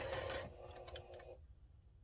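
A sewing machine runs in a quick burst, stitching the nested centre seam of a quilt bowtie block, a steady whirring stitch close by that slows and stops partway through, leaving quiet room tone.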